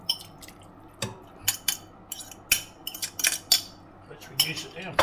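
Chicken bones poured back into a cooking pot, making a scattered run of sharp clinks, knocks and clatters against metal, irregular and fairly close, with quiet gaps and faint drips between.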